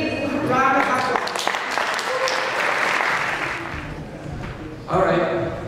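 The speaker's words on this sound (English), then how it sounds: "Let's give them a big round of applause." Applause from a spring concert audience at St. Norbert's follows a musical performance, a broad wash of clapping that swells and holds, with voices and a brief tonal sound mixed in near the start and end.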